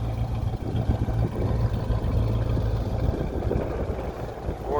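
A 1966 Ford Mustang GT fastback with an A-code 289 V8 and trumpet exhaust idles steadily nearby, a low, even burble with a loping pulse that holds for several seconds.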